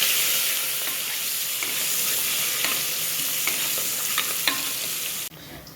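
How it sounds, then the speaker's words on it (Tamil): Onions and curry leaves sauté in a hot pan for a mutton curry, giving a steady close sizzle and hiss with occasional stirring scrapes, and the sound drops off sharply near the end. "வெங்காயமும் கருவேப்பிலை எடுத்து வச்சுருக்கேன். போட்டுட்டு நல்லா ஒரு வதக்கியாவது."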